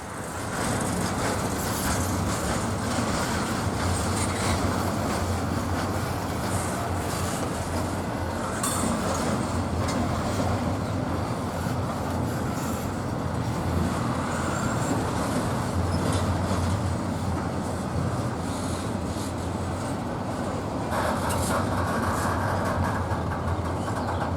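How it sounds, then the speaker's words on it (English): A Norfolk Southern freight train rolling past steadily in Mableton, Georgia, with a constant heavy rumble and rattling wagons, faint squeals and clanks riding on top throughout. "this is train NS26A coming off the Alabama East End line"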